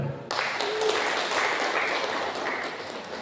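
Applause from a crowd at a birthday celebration, a steady wash of clapping that swells up after a brief pause and holds for a few seconds.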